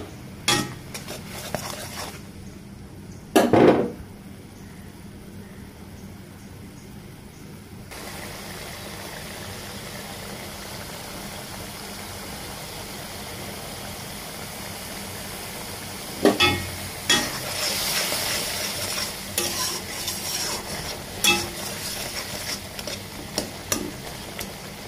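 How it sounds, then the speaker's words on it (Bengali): Spices are stirred and fried in a pan while cooking turnip with prawns, giving soft scraping and low sizzling with a couple of sharp utensil knocks against the pan near the start and a busier burst of stirring later on. "মশলাগুলোকে ভালোভাবে কষিয়ে নিতে হবে।"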